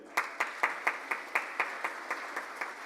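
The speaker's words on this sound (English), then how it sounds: "We're going to give you an applause, too." Slow, evenly spaced claps, about a dozen in steady rhythm, from a Rotary Club of Tulsa gathering, fairly faint and without voices.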